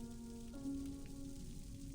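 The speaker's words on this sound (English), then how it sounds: "Is that rain I hear?" Soft, steady rain hisses faintly and continuously in the video game Reverse: 1999, with a low tonal hum beneath it and no voices.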